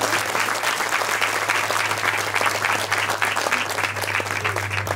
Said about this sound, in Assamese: সেইকাৰণে এটা ৰঙতে হাত চাপৰি দি দিয়ক চবেই